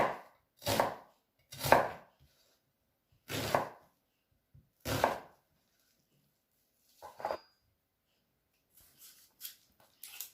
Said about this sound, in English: Here, I cut it vertically and then horizontally with 3 cuts